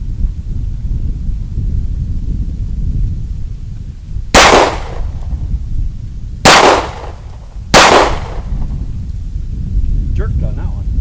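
Three loud gunshots from a Glock 36 .45 ACP pistol, sharp and close, spaced about two seconds apart over steady outdoor wind and background rumble.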